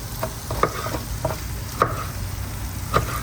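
A burger patty sizzles in a hot pan on a kitchen stove, a soft steady frying hiss close up with a few sharp scrapes and taps, and no talking.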